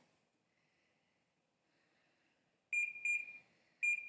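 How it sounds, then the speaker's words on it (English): An air conditioner unit gives a series of sharp electronic beeps, three bright tones in close succession after a near-silent stretch, with a faint earlier click. "that beeping noise was the air conditioner"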